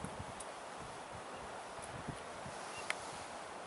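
Steady wind blowing across an open hunting ridge, a broad constant rush with faint rustling and occasional small knocks, no voices.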